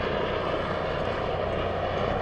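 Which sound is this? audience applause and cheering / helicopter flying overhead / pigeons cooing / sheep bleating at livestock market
helicopter flying overhead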